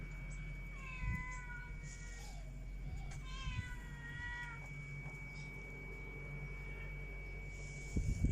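A cat meows twice, drawn-out and plaintive, during car repair work on a Toyota AE101 Corolla, over a steady background hum with a few faint knocks.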